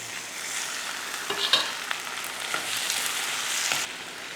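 Chopped tomatoes going into a pan of onions being sautéed, a steady close sizzle with a few stirring scrapes and clinks, no talking.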